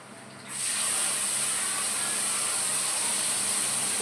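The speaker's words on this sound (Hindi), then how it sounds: "अब इसमें मैं ये मसाला डाल दूँगी।" Masala spice tipped into onions frying on full-flame gas, erupting into a loud, steady hiss and sizzle that starts after a brief quiet moment and holds evenly throughout.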